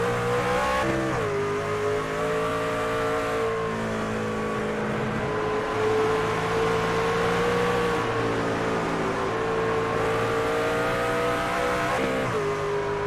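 Racing trucks roar around a race track, the lead 7 truck among a pack whose engines drone loudly and steadily with overlapping revs and occasional shifts, near and sustained with no talk.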